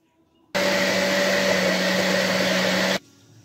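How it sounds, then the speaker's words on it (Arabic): A kitchen blender whirs loudly and steadily for a few seconds, mixing a cup and a half of water with a cup of flour and a pinch of salt, starting and stopping sharply with no talk over it. "هنضربهم في الخلاط"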